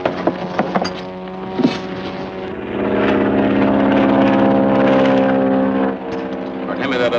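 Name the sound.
aircraft engine in flight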